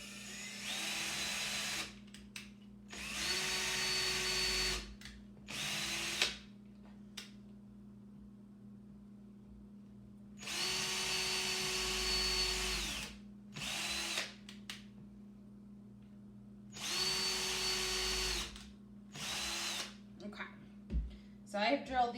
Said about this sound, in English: So I'm just gonna drill 3 pilot holes.